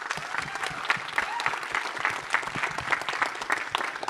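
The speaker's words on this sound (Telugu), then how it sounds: "she needs a big round of applause" An audience at a film pre-release press meet applauds the director Pravina, a sustained burst of many hands clapping with crisp individual claps standing out and some voices underneath.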